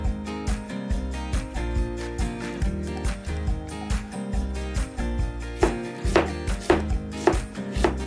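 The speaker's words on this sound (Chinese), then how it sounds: "洋葱切丝" Onion sliced into strips on a cutting board for a Turkish tomato and cucumber salad, a rapid, steady run of loud knife knocks with crisper strokes toward the end, over quiet background music.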